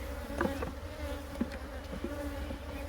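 Honey bees hum steadily inside an opened hive beside an internal feeder, a close, continuous drone with occasional louder wingbeat passes.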